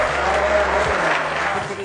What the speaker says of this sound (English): let's give a round of applause to Taylor Swift for a great day